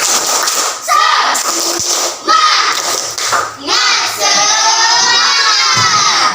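A group of schoolchildren in a classroom shouts a loud rhythmic spirit-clap chant together, mixed with sharp claps and cheering, filling the room at close range.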